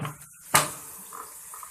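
Water splashes briefly into a bowl of marinade for chicken biryani: one short, close pour burst in an otherwise quiet kitchen.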